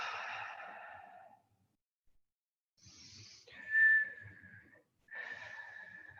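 Breath is blown out through slightly widened lips as in a guided breathing exercise, in two or three soft, airy exhales with a faint whistling tone, close and quiet.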